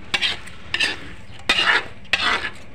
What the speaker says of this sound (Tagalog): Guys, inuna natin sa pagluto yung ating buttered shrimp.